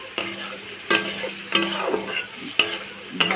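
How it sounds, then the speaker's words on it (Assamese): Pieces of magur catfish are stirred in sizzling spice paste in a pan, with about five distinct scraping strokes over a continuous frying hiss, close and clear. "মাছখিনি মই এতিয়া মছলাত ভালদৰে লৰাম"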